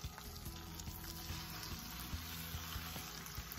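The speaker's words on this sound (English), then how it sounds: "I'm gonna get this bacon sort of browned" Bacon sizzling and crackling steadily in a pan of melted butter, a close, continuous frying hiss with scattered pops, no talk.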